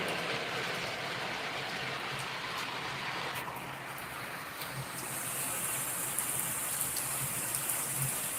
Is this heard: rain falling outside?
yes